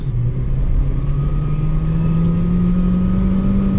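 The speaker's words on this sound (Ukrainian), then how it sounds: "Зараз спробуємо розігнати від нуля до сотні." A 2010 Skoda Octavia A5 1.8 TSI with a manual gearbox pulls hard from a standstill uphill into a bend, its engine note climbing steadily and loudly throughout, with no talking.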